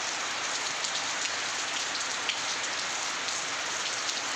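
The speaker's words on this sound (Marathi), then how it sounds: "जशी श्रावण महिन्यात झडी चालू असते त्या प्रकारे आपल्याकडे झडी चालू आहे" Heavy monsoon rain pours outside a house in a steady, dense patter of drops on surfaces. It is continuous and even throughout, heard alone without voices.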